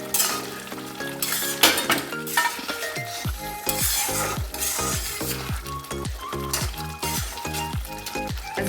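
Fried eggs get stirred into spinach in a frying pan, a steady sizzle broken by repeated metallic scrapes and clinks of a utensil against the pan in a loose rhythm.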